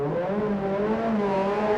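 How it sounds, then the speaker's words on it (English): An ALMS race car at Sebring in 2000 sitting in the pits with its engine held on the rev limiter, a steady high buzzing drone with slightly wavering pitch, loud and continuous, no voices. "He's on the rev limiter."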